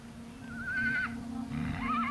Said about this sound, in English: The big surprise is that it's a Przewalski horse.